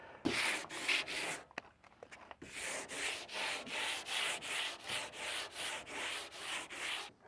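Hand-held drywall sander lightly scuffing the old paint on an abandoned pickup truck body, a steady series of rhythmic back-and-forth rasping strokes, close and fairly loud, with a few knocks at the start.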